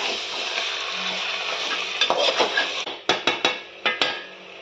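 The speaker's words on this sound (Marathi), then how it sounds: "आता ह्यात मी मटण टाकते। पण चांगलं तेलात खालीवर करून घेऊया।" Mutton pieces being turned over in hot oil with fried onions in a pot, a steady sizzle underneath and a run of sharp metallic clanks from the spoon against the pot, growing louder and more spaced toward the end.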